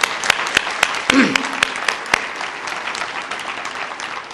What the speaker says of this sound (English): Can we give Leslie Foster a round of applause again